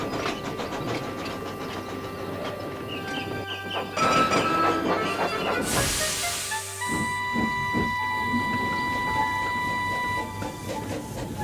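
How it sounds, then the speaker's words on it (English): Toy tram engine pulling stone trucks on a model railway layout, giving a soft mechanical whirring and clicking with a short burst of hiss midway. "Toby the tram engine arrived with some stone trucks from the quarry."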